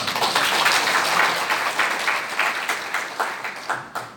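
Steady applause from a crowd at a meeting in the National Assembly members' hall in Yeouido, dense clapping throughout that gradually thins and fades toward the end.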